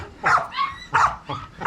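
A German shepherd male barks in four sharp, loud, close bursts spaced roughly evenly, each bark bright and harsh.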